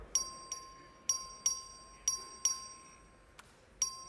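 A voting bell rung by the clerk in a state House chamber during a record vote, sounding as repeated bright metallic dings with ringing overtones in an irregular series of about eight strikes over a quiet room.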